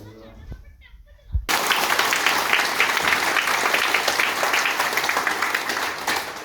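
A brief spoken line from a motivational seminar speaker gives way to a sudden burst of loud crowd applause, many hands clapping densely and steadily until the end.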